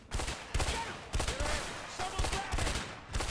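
Gunfire in the video game A Way Out, bursts of several shots that come in irregular clusters, fairly loud and close with a booming low end, no talk over it.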